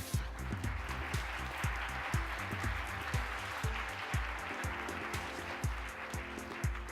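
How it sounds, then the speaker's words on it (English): Audience at a leaders summit applauding a panel of SDG pioneers, steady dense clapping throughout with a few louder thumps, no voices. "give them a wonderful round of applause"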